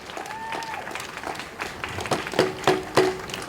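At an outdoor peace rally in New York City, a crowd gives a short round of applause and clapping with scattered cheers, the claps building in bursts over a few seconds.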